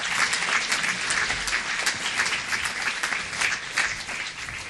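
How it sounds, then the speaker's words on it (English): Steady audience clapping at a city council meeting for a high school bowling team, dense and even throughout, with no talking over it. "Give them a round of applause."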